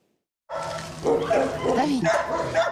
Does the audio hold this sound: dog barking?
yes